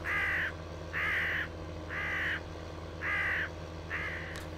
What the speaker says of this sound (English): This part has the same funny cawing sound as the other side of the map there.